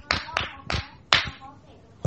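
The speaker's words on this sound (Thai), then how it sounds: "ปรบมือ6ครั้ง" Hands clap sharply several times in an uneven series, close and fairly loud, during a group activity counting claps, with quiet room noise between.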